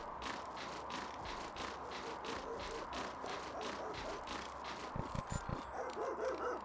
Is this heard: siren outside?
no